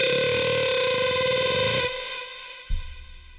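A distorted lead synth guitar patch with two voices sustains a bright, buzzing held note with feedback-like overtones, then cuts back to a thinner tone before a low note enters near the end.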